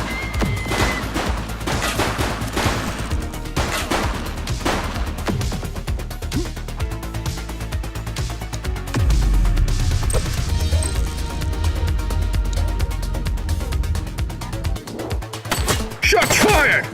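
Bursts of gunfire from The Precinct police game, rapid shots that thicken into a louder sustained volley near the end, with shouting voices mixed in.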